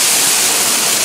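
A water pump unit starting up, fitted with a pressure alarm switch and ball valve, gives a steady, loud, broadband rushing hiss like spraying water that holds constant throughout.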